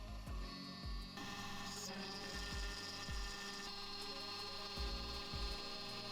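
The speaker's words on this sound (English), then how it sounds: "Now we'll put the 1/8 inch end mill back and face the tops of the heatsink pads" A Carvera Air desktop CNC machine runs a 1/8 inch end mill, facing the tops of heatsink pads on a custom Raspberry Pi 5 waterblock plate, giving a steady, faint, high-pitched whine with a constant motor hum and occasional soft knocks.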